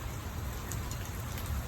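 Rain pours steadily during an Oklahoma thunderstorm, a dense, even hiss of drops striking surfaces close by, with no voices over it.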